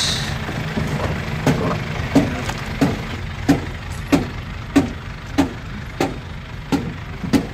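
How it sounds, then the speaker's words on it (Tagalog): The engine of a Suzuki Wagon R with an R06 engine runs close by, with a low idle hum broken by regular ticking beats repeating about every two-thirds of a second. "Ito ang kanyang engine mga boss."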